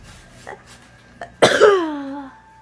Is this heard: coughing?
yes